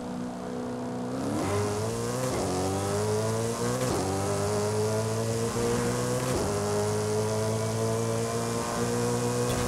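A tuned 1026 hp TVR Griffith V8 in Forza Horizon 5 accelerates hard through the gears in a roll race, its engine note climbing steadily with several quick upshifts, loud and continuous with no voices.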